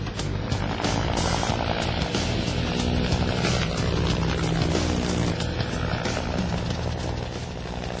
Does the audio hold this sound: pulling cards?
no